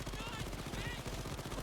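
Rapid gunfire from a video game turret, a dense burst of shots running the whole moment at steady volume.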